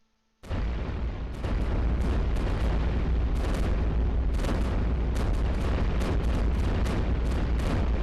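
Dense, continuous barrage of booming cannon fire from the video game iBomber Defense, loud and relentless after a brief quiet start.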